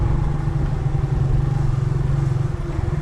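A Honda Click motor scooter engine idles steadily nearby with a low, even putter and faint rattling throughout.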